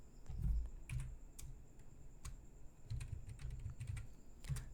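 Typing a search on a computer keyboard, quiet close key clicks in uneven short bursts with brief pauses between.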